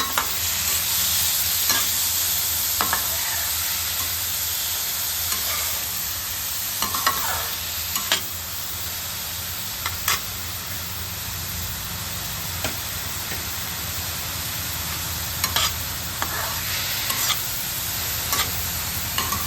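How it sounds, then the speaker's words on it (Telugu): Onions frying in a pan with a loud, constant close sizzle, punctuated by frequent scraping and tapping stirs of a spoon; nobody speaks. "ఉల్లిపాయ బాగా వేగాలండి"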